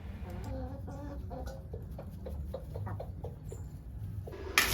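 Chickens cluck repeatedly in a rhythmic, chattering series, close and moderately loud, with a sharp click at the very end and no voices.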